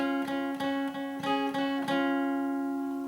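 Guitar chords strummed in a steady pattern, about six even strokes ringing together with sustained tones, played close and clear with no talking.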